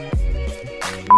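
A mobile phone sounds a short electronic notification, a few quick tonal beeps ending in a brief steady tone, near and fairly loud.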